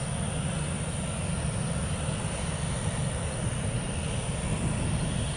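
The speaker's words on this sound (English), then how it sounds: "Hauling ass down taxiway Charlie for one right. That looks like a 737-700." A Boeing 737-700 taxiing fast down an airport taxiway toward the runway, a steady broad engine roar and rumble holding at a constant level throughout, with no talking.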